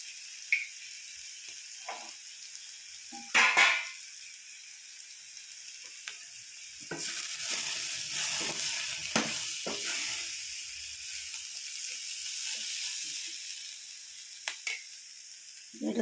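Curry leaves crackle and sizzle as they fry in hot oil, with sharp spitting bursts early on and a broader, steady frying hiss in the latter half, close and fairly quiet.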